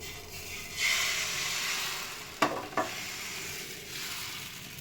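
Thin rice-flour neer dosa batter poured onto a very hot pan, a soft sizzling hiss that swells and fades, broken by two sharp clanks of utensils against the pan, close and free of talk.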